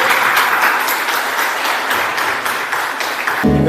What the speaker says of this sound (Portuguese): Você pode aplaudir o nome do Senhor Jesus bem forte?